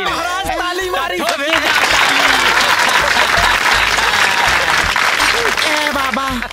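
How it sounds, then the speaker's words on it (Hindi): A crowd applauds in a Bhojpuri film scene, loud dense clapping that builds and holds steady for several seconds, with voices heard over the start and end. "ताली मारी"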